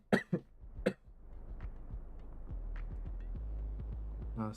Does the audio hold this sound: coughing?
yes